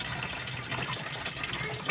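Water gushes steadily from the drain hose of a Eureka washing machine, a continuous close splashing flow with no voices.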